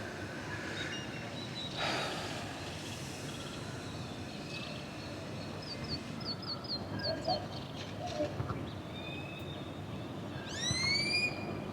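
Birds call outdoors in quiet surroundings: scattered chirps and short whistled notes come and go over low background noise, ending in a louder cluster of rising calls near the end.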